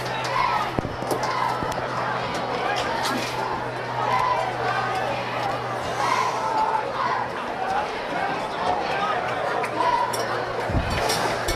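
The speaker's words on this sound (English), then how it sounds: "this West crowd still making things hard to hear here at Maryville" A large high school football crowd at Maryville, for the game against Knox West, keeps up a dense, steady roar of chatter and shouting, with a voice speaking over the crowd throughout.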